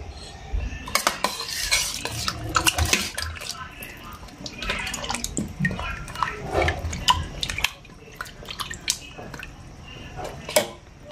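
Onions and garlic being stirred in a pan for patatim, with repeated scraping and clinking of a utensil against the cookware over a soft background sizzle, close and moderately loud, without talk.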